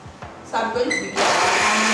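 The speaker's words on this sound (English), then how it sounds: "So I'll be adding these onions to inside the blender to blend all to the smooth." A kitchen blender starts up on onions and tomatoes, whirring loudly at a lower speed before jumping to a louder, higher, steady roar that fills the rest of the clip.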